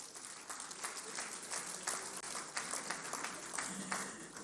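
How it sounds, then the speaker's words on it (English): Audience applause at a public lecture honouring General Yakubu Gowon's 90th birthday, a steady room-filling clapping that holds at an even level throughout with no voices over it. "A round of applause for Nigeria as a nation."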